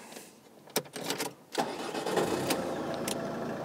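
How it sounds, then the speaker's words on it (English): A 2011 Ford Galaxy engine cranks over in a few sharp bursts and then catches, settling into a steady, fairly loud idle that carries on to the end. "we'll start the car"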